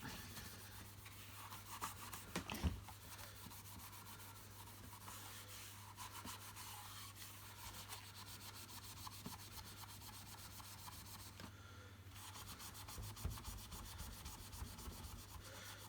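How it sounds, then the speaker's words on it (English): Continuous rubbing and polishing on the rusty metal underside of a Miele S4211 vacuum floor head, a steady abrasive scrubbing held at even volume over a low constant hum, with a brief sharper knock early on. "I'm just going to polish the underneath of this, which will remove the rust"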